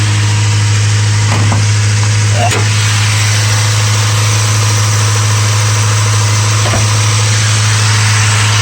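A Mazda B2600i pickup truck engine bogs down and loses power with the hood open outdoors in the woods, giving a loud, steady low drone with a few faint knocks and thumps throughout.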